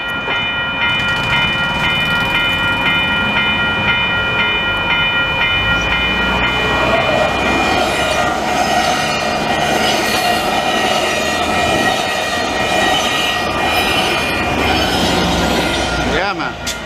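A train on the line toward Saint-Jérôme in Montreal's Park Extension rumbles past up close for a long stretch, with steady rolling wheel noise, metallic rail squeal and a faint horn-like tone under occasional talk.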